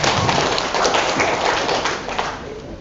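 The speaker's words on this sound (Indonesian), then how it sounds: "Tepuk tangan dulu." An audience claps together in a steady, dense burst of applause that carries on evenly for a few seconds, close and fairly loud, with no voices over it.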